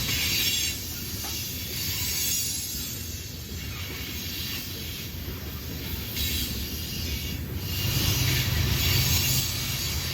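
A long freight train with a distributed power unit rolls past close by, its loud, continuous rumble and hiss of wheels on rail rising slightly toward the end, with no voices.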